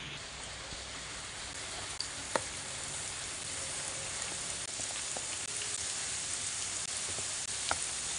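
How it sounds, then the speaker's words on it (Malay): Wonton dim sum fries in hot oil, a soft steady sizzle with a few faint pops and clinks, heard alone at a moderate distance. "Sekejap lagi nak goreng."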